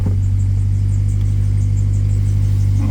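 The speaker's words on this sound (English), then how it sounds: "belts making noise apparently" A Honda Prelude V6 engine idles with a steady low drone, loud and close, as its belts make a slight whirring and chirping noise on top, with no talking.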